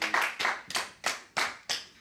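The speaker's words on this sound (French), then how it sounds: "On va applaudir Karim s'il vous plaît." A few hands clap in a small, quiet room, six or so distinct slow claps spaced about a third of a second apart, close and dry with no voices.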